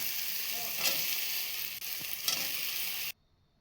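Potato pieces sizzling in oil with ginger-garlic paste in a pan, a steady close hiss with occasional stirring scrapes, cutting off abruptly into silence.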